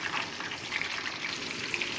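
Fish fries in hot oil Tamil style, an even, crackling sizzle with scattered pops close by, steady and without any voices.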